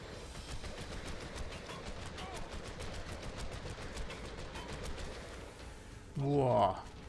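Rapid automatic gunfire from the ARK Survival Evolved video game in a swamp cave, a steady stream of shots running for several seconds with a brief creature-like cry near the end, while someone talks over it.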